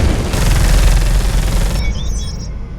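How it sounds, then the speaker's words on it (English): A Space Hulk Deathwing missile launcher fires with a loud, sustained roaring rush of blasts, then cuts off into a quieter tail with a faint electronic warble. "Missile launcher executed."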